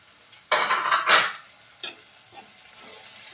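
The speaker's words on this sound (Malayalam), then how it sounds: "ഇനി നന്നായിട്ടൊന്ന് വഴറ്റുക." Onions and tomato stirred in a pan on the stove, with a loud scrape-and-sizzle burst, a second sharp stir, then a softer clink and a low steady frying hiss.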